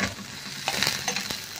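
Onions sauté in a pan for a Filipino pechay dish, giving a steady close sizzle with a few quick scraping stirs partway through and no voices.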